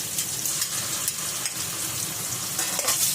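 Onions frying in a pan for butter chicken give off a steady, close sizzle and crackle with no pauses and no talking.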